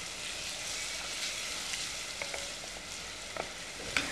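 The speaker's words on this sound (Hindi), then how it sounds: "इसको भूनेंगे जब तक ये थोड़ा सा हल्का सा गोल्डन ब्राउन ना हो जाए।" Ingredients fry in a pan until lightly golden brown on a TV cooking show, a soft continuous sizzle with a few small pops and clinks of stirring, quiet and close, no voices.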